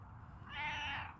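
A cat gives a single drawn-out meow lasting about half a second, fairly close and clear over a quiet room, beside a catnip plant.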